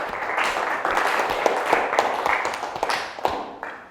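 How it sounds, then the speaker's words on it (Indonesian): An audience applauds group 3 at an automotive teaching session, a dense patter of hand claps lasting a few seconds at moderate volume, with some brief taps standing out. "Beri tepuk tangan untuk kelompok 3"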